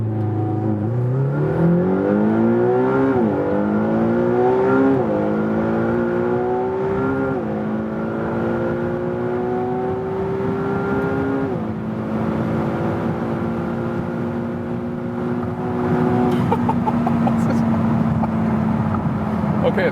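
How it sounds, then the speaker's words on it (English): McLaren GT engine pulls hard under full acceleration on a German Autobahn from a rolling start, rising in pitch through several gear changes before settling into a sustained high-speed drone, heard from inside the cabin with tire and wind roar. "I'm doing like a slightly rolling start, but you'll see everything of that full acceleration anyway."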